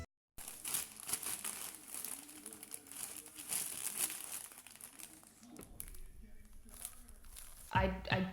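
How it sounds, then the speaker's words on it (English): Cat playing in a plastic bag, close, continuous crinkling and rustling with scattered sharper crackles and a louder burst of crumpling at the end. "She loves to get into these plastic bags."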